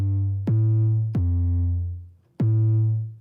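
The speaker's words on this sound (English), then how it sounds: "And then I needed an 808 bass." Stock 808 bass from Logic playing three long, sustained booming notes, each with a sharp attack and a slow pitch glide down, ringing out alone with no voices.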